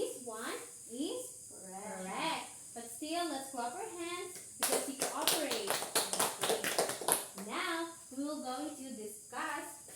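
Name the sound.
children clapping hands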